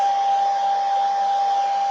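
A hair dryer runs steadily with a constant airy whoosh and a high motor whine, close by and uninterrupted.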